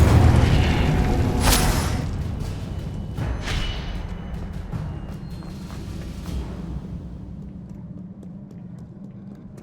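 Incendio fire spell cast in Hogwarts Legacy: a loud whooshing burst with a couple of sharp flares, then a roaring rumble that slowly fades over several seconds.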